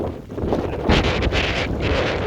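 Strong outdoor wind buffets the microphone in gusty bursts, a loud rushing roar that swells and dips with no voices over it.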